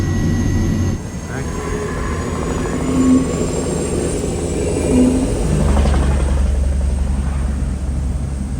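Loud, continuous turbine whine and roar from the jet turbine engine fitted to a Camaro car, steady with slight swells in intensity and rising whistling tones.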